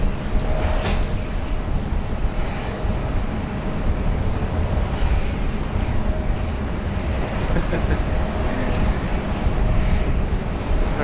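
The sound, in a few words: Dassault Falcon 50 jet arriving at Sydney Airport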